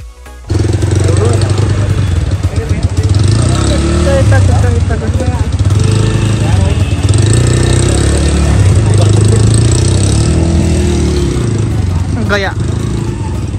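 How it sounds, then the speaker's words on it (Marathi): A Bajaj Freedom 125 CNG motorcycle engine runs loudly and close on a test drive, a steady mid-pitched drone that starts abruptly and holds for over ten seconds while a person talks over it. "आता आपण टेस्ट ड्राईव्ह करून बघू"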